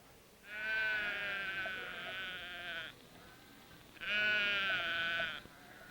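A sheep bleats in a 1957 television commercial: two long, wavering bleats separated by a short pause, clear and prominent over a quiet background.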